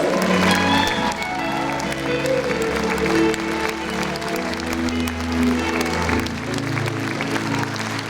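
An audience claps steadily and warmly at a concert, and the applause carries on under music still playing.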